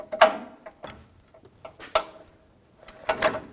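A ratchet wrench turns a bolt while mounting a 4WD actuator on a 2014–2018 GMC Sierra 1500 with a 5.3L V8, giving several short, close metallic clicking bursts with brief pauses between them.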